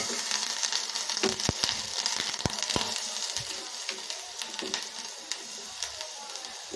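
Jaggery and grated coconut hitting hot ghee in a pan give a steady, close sizzle with scattered sharp crackles and pops, the frying hiss running throughout without pause.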